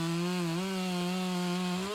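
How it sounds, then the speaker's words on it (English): A Stihl MS400 chainsaw with a 20-inch bar cuts rotten aspen during urban tree removal, its engine holding a loud, steady, close whine with slight pitch wavers throughout. "I'm using my Stihl MS400 chainsaw in this job with a 20 inches long bar."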